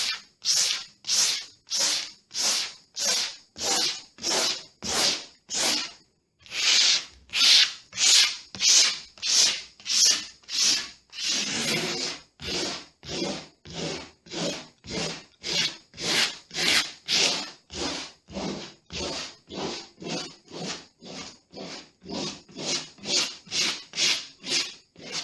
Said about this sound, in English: with some warm sandpaper, I'm going to give it a wipe over and hopefully I'll remove any other wax that's left